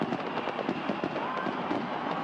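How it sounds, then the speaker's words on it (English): Fireworks going off over a baseball stadium during the 1979 World Series, a dense, steady run of crackling bursts and pops blended with crowd roar, loud and continuous. "The fireworks go off."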